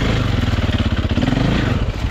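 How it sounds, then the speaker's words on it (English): A motorcycle engine sputters and surges unevenly as it struggles to stay running, with a loud, close, pulsing throb throughout. "I have problems with this bike staying and running"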